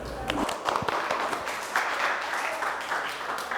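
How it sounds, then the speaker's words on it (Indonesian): An indoor audience at a religious lesson claps together, a burst of scattered hand claps that continues at fairly close range with a few voices mixed in. "Ya, tepuk tangan dulu"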